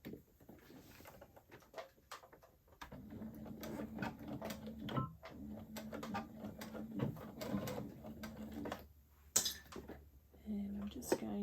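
A domestic Brother sewing machine stitches a tab with a steady, whirring run from about three seconds to nine seconds, pausing briefly near the middle. Scattered handling clicks and faint speech can be heard around it.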